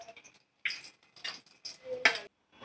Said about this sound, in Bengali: দেখো, আমি এগুলো তুলে রাখছি একটা পাত্রে